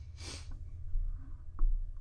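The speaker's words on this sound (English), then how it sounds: "I just sneezed, so I'm feeling a little congested." A single short, sharp sneeze from someone feeling congested, close and fairly quiet, followed by soft breathing and faint background noise.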